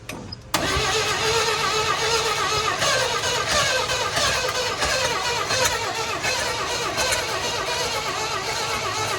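Square Body truck engine being started, catching abruptly after a brief crank and then running loud and close with the throttle worked, rough and steady with slight surges, no talk.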